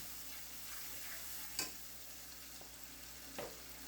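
Eel pieces with turmeric and salt sautéing in a pan, a faint steady sizzle broken by a couple of sharp spoon scrapes against the pan, no talking.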